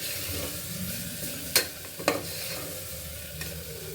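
Onion frying in hot oil with whole spices for tomato bath: a steady sizzle with a couple of sharp stirring scrapes, close and fairly quiet, no voices.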